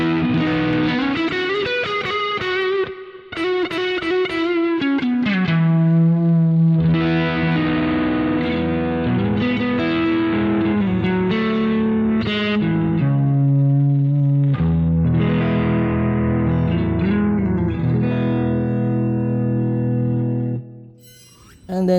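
An electric guitar played through a Boss GT-1 with plate reverb and distortion, with sustained chords and melodic lines ringing continuously for about twenty seconds before a brief pause.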